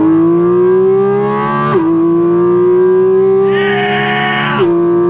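A 2023 Porsche 718 Cayman GT4 RS engine revs hard in second gear, its pitch climbing steadily before a quick upshift dip, then rising again with a sharp intake howl, loud and close throughout.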